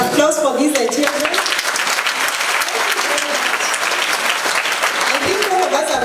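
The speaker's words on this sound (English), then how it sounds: "Applause for these children." Audience applause at a children's devolution conference in a school setting, steady dense clapping that fills the whole stretch with even loudness and no talk over it.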